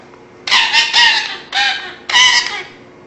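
A bird in a Skinner conditioning experiment gives a run of loud, close, raspy clucking calls in three bursts with brief gaps, standing alone against a quiet background.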